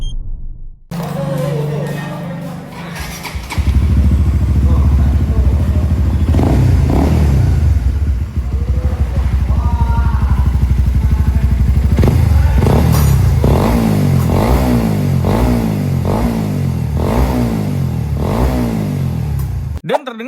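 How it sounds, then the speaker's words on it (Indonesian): A Honda CB150 motorcycle with a 63mm bore-up and a hollowed-out exhaust idles with a deep, loud exhaust rumble, then revs up and down repeatedly in sharp bursts, close by, with brief talk early on. "terdengar untuk knalpotnya itu sudah bobokan dan suaranya itu masih aman-aman aja ya guys"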